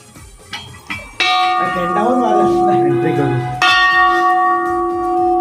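A large temple bell struck twice at a hillside shrine, each strike ringing out loud and close with a long, sustained metallic hum, while people talk faintly nearby.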